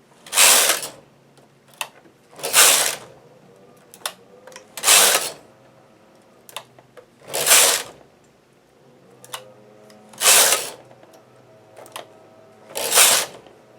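A knitting machine carriage is pushed across a row in several separate loud whooshing, clattering passes, roughly every two to three seconds, with small mechanical clicks between them.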